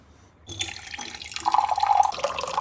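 Water runs from a household water purifier tap, starting suddenly after a brief quiet and pouring steadily and close, rising in pitch as the vessel fills.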